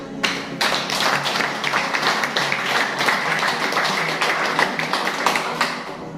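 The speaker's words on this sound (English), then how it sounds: "let's clap for when we are here" Audience clapping at a royal-style independence speech gathering, a steady dense patter of many hands continuing throughout, fairly close and loud with scattered sharper claps.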